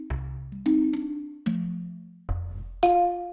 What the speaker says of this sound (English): I used Marimba 1, that sounds like this.